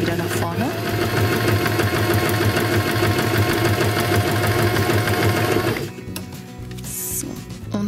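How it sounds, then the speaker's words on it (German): A home sewing machine stitches steadily with a dense rapid rhythm, then shifts to reverse stitching for a short back seam, the motor hum dropping quieter near the end. "Hier kann man übrigens die Richtung wechseln, dann kann ich wieder zurücknähen"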